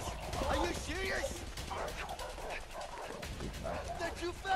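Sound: dogs barking while chasing in A Way Out video game

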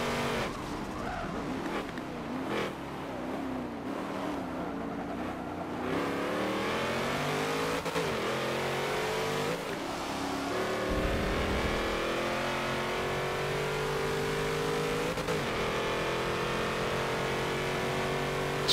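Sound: car diesel engine revving in racing video game

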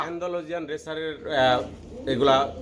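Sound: racer pigeons cooing

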